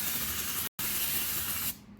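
A paint sprayer spraying DIY paint gives off a close, steady hiss. The hiss breaks once for a split second, then resumes and cuts off near the end.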